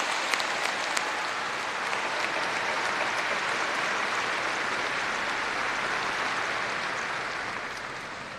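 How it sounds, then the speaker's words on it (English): A large commencement crowd at OSU applauds the faculty, a broad, distant wash of clapping that holds steady and fades slightly toward the end. "Please join me in applauding the faculty for their service to OSU and for representing their colleagues today."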